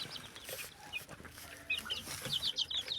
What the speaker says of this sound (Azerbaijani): Burada da cücələrdir.